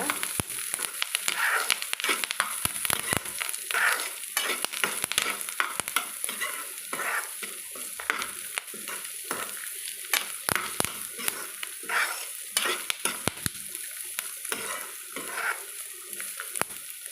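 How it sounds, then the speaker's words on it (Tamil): Curry leaves sautéing in a pan for beetroot chutney, with a steady sizzle broken by repeated scraping stir strokes, close and fairly loud, without talk. "கருவேப்பிலை சேர்த்துக்கலாங்க இப்போ நம்ம சேர்த்துட்டு நல்லா வதக்கலாங்க"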